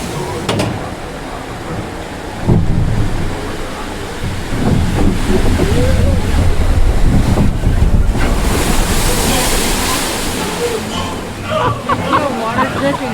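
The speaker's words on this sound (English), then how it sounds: "Water dripping behind my foot." Water splashes and rushes around a Pirates of the Caribbean ride boat at Disneyland, a continuous wash of surf-like noise with dripping, under nearby talking and recorded pirate narration.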